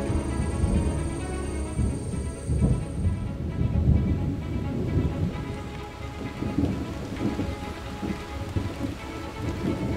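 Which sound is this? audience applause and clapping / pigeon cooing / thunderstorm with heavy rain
thunderstorm with heavy rain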